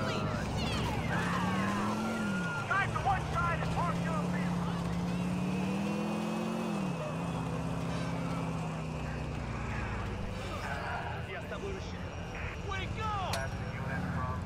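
A car engine drones and revs continuously during a police chase in the video game GTA 4, with shifting pitch as it accelerates, under scattered game sounds.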